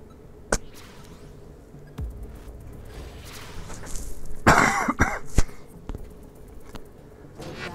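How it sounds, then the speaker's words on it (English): A single sharp cough rings out in a quiet room, a few softer clicks and throat noises scattered around it. "hopefully I got rid of that cough"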